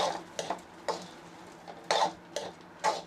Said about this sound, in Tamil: இப்போ பொரி போட்டு கிண்டுறோம் பாருங்கள்.